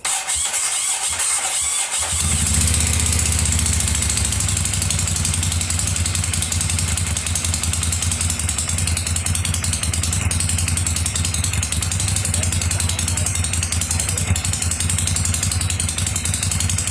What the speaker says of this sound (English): So I'm going to be starting the bike